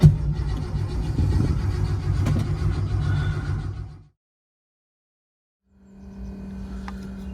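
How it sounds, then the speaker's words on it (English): A 1970 Porsche 911 engine, unused for about six months, cranks and runs roughly with a loud rumbling drone, cuts out into silence for almost two seconds, then is started again. "So this 1970 Porsche has not been driven for about 6 months."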